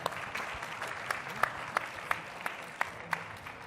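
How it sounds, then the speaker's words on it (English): A conference workshop audience applauds its panelists at a customer success meetup, a steady wash of clapping with a few sharper individual claps standing out, fairly distant and moderate in level. "Give a round of applause to our panelists."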